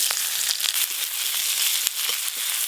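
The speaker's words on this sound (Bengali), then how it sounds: "পেঁয়াজ কুচি দিয়ে দেব।" Chopped onions dropped into hot mustard oil with whole garam masala, a loud continuous hissing sizzle punctuated by crackles and pops, with no talking.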